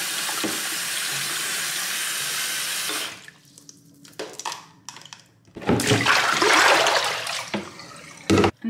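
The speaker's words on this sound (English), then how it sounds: "now I'm just literally going to run this stuff under warm water" Warm water runs from a tap to rinse shampoo out of hair, a steady splashing stream that cuts off, then returns in uneven bursts and heavier gushes near the microphone.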